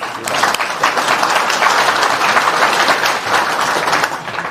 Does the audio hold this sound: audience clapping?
yes